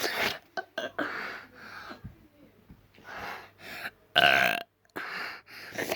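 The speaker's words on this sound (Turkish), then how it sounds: "Bu arada ben istediğim zaman geğirebiliyorum." A single loud burp from a person at close range, among breaths, gasps and other short vocal noises, with a brief silence before it.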